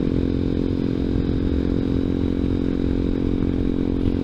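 A Grom clone ZS190 small motorcycle being ridden, its steady engine drone and rumbling wind noise constant and close throughout, with no voices.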